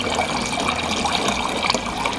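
Water runs from a tap through a new refrigerator water filter to flush out charcoal, a steady close splashing trickle that pours continuously into a container without any talk.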